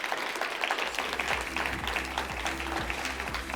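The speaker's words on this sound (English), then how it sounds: "Please give Mr. Lukhele a round of applause." An audience at a business Q&A session for small and medium enterprises gives a round of applause, a dense steady patter of clapping filling the room, with low background music or hum underneath.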